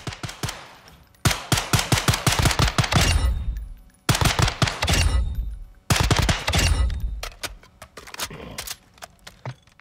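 An MCX Rattler .300 Blackout rifle fires in Call of Duty Modern Warfare, loud rapid full-auto bursts in four long strings separated by short pauses, sharp and close with no talking.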